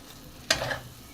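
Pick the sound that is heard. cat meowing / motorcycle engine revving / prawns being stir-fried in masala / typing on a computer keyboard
prawns being stir-fried in masala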